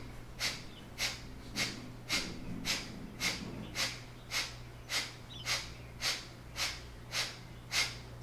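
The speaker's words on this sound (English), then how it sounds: "do Kapalabhati breath, forceful exhales" Kapalabhati yoga breathing: a steady series of about fifteen sharp, forceful nasal exhales in an even rhythm, close and clear over a low constant hum.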